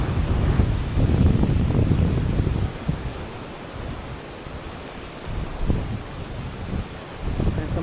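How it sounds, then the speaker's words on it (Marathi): Surf rumbles and washes in continuous surges on the seashore at Kunkeshwar, heavy wind buffeting the microphone, with waves swelling louder at the start and again near the end. "आणि बाजूचा सुंदर असं समुद्र समुद्रकिनारा"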